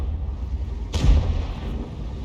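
One booming shot from a Lorraine 155 mle 51 artillery gun in a tank video game, a deep, heavy report rising over a rumbling engine background and fading slowly.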